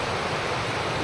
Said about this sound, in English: Have to get across that river.